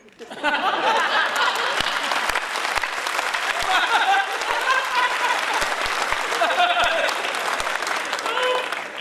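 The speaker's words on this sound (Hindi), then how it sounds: "4-5 लोग ताली बजा रहे हैं, आप भी रहने दो।" Sustained applause from an audience at a Hindi kavi sammelan poetry recital, a steady dense patter of clapping lasting several seconds with a voice talking over it.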